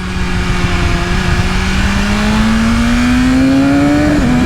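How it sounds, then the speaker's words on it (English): A 2020 BMW S1000RR sport motorcycle engine drones loudly and steadily, its pitch climbing slowly and then dipping sharply at the end as it downshifts. "Once again, the downshifting is ultra smooth."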